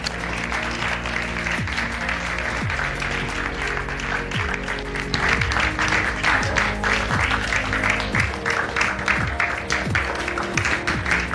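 An audience at a young leaders contest applauds loudly as the candidates arrive, a dense, steady clapping that swells halfway through over a low musical backing.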